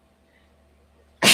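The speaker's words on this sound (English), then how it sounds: "Okay, I might sneeze." One sudden, loud sneeze bursts out at the very end after near-silence, sharp and close to the microphone.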